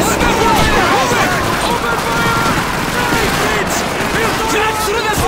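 Soldiers fire a dense fusillade of rifle and machine-gun shots in a Call of Duty 2 battle, loud overlapping cracks rolling continuously at close range amid shouted voices.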